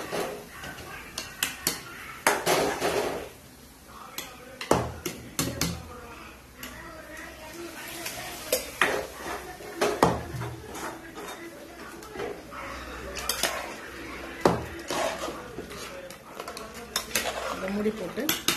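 A spoon scrapes and clinks against a metal pot in repeated stirring strokes while mixing ingredients for a goat-meat curry with drumstick and brinjal, with brief pauses between bursts of clatter.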